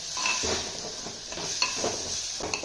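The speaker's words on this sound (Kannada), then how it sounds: "1 ಸ್ಪೂನ್ ಧನಿಯಾ ಪುಡಿ, 2 ಸ್ಪೂನ್ ಗರಂ ಮಸಾಲ ಚೆನ್ನಾಗಿ ಫ್ರೈ ಮಾಡ್ಕೊಳ್ಳೋಣ" Ground coriander and garam masala sizzle in a hot pan for a bottle gourd kurma, with steady close frying hiss broken by a few scrapes and clinks of a spoon stirring against the metal.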